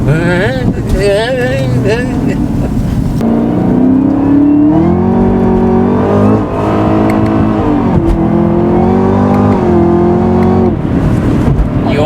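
A 2020 Chevy Camaro ZL1 1LE accelerates hard from inside the cabin. The engine roars loudly and rises through the gears with shift dips, and voices talk over it throughout.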